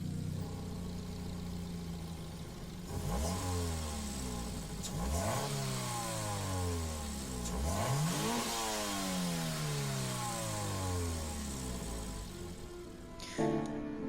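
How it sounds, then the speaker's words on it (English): Roll car race engine in Gran Turismo 7 revving hard through repeated rising and falling sweeps, each climb cut by a quick shift, loud and close with no talking. "Now let's hear the roll car version."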